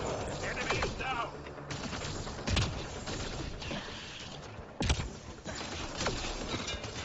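Rapid gunfire in the sci-fi shooter Mass Effect: Andromeda, bursts of automatic shots crackling close and loud with a few sharp heavier cracks, under occasional voice.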